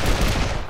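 Burst of video-game gunfire, a dense rattle of rapid shots lasting under a second, loud and close with no talk over it.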